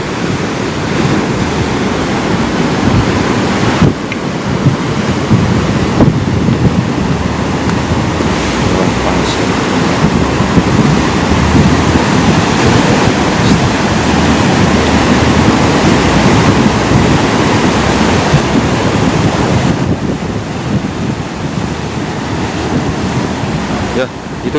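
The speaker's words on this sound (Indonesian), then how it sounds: "bisa dilihat ombaknya agak mengisah ke tengah" Ocean waves surge steadily at Balekambang beach in Malang, East Java, a loud continuous roar of surf with wind buffeting the microphone throughout.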